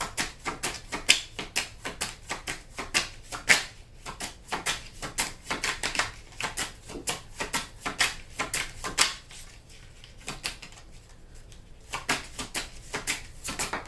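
Tarot cards are shuffled by hand in a quiet room, a long run of crisp riffling snaps and soft taps repeating in uneven bursts, close and fairly faint, with no talking.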